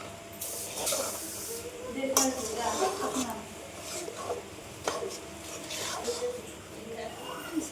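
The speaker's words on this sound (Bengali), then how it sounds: "নাড়াচাড়া দিয়ে লাড়ুর পাকটা দিয়ে নিব।" A sesame and palm laddu mixture being stirred in a pan, with a steady hissing sizzle and repeated scraping strokes of the spoon against the pan, close and moderately loud, under occasional talk.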